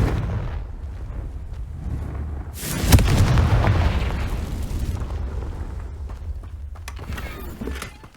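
Confringo blasting spell in Hogwarts Legacy erupting in a loud booming explosion that rumbles and decays over several seconds, with no talk.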